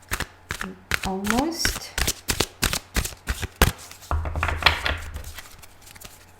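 A Psychic Tarot card deck is shuffled by hand in rapid riffling bursts and sharp taps, close up, with a person speaking briefly partway through.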